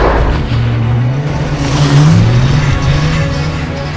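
A barn-find Volvo 940 races around a Finnish folk racing circuit, its engine roaring loudly and shifting pitch as it accelerates and revs close by, with a hint of tire noise.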